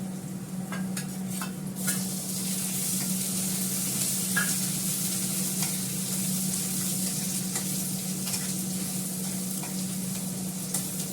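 Ginger paste frying and sizzling in a pan on an induction cooktop, a steady hiss with occasional scrapes and clinks of stirring throughout.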